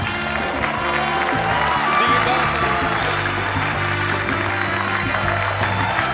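An Indonesian TV studio audience applauds after an escape stunt from an ice-filled box, continuous crowd clapping under music and a host's voice throughout.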